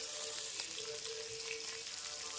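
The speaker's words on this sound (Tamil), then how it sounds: "அதை அப்படியே ஆயிலில் பொரித்து எடுத்துக்கலாம்" Marinated vazhai fish frying in hot oil, giving a soft, continuous sizzle and crackle with occasional small pops, faint and fairly close, with no talking.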